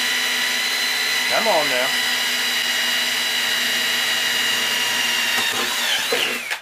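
A hole saw in a drill cutting through a metal ammo box, a loud steady high whine with grinding metallic overtones that runs throughout, close by, with a brief spoken phrase over it.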